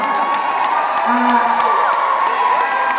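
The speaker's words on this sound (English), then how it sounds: "And then applause. Just audience applause." A concert audience at the Paradiso in Amsterdam cheers and applauds loudly and continuously, with whoops rising over a dense crowd roar.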